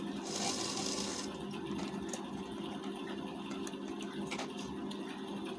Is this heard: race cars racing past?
no